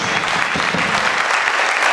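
A crowd applauds loudly at a memorial concert, a dense, steady wash of clapping that fills the moment with no pauses.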